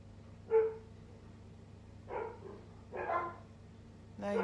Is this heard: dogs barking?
yes